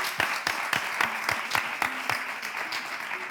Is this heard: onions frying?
no